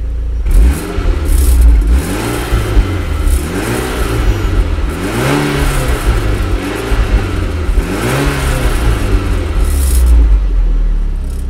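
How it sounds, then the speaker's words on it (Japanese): Close up, a Mitsubishi Lancer Evolution X engine is revved repeatedly as the throttle is pressed, its loud exhaust rising and falling in several rhythmic swells over about ten seconds, with no voices. "アクセルを踏むとさすがに大きい音がしますが"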